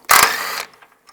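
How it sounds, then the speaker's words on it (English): A quick burst of ratchet clicking as a 12mm socket turns a bolt on a Toyota Prius inverter radiator bracket, one short close whir of pawl clicks, then quiet. "Take these brackets off. Use a 12mm socket."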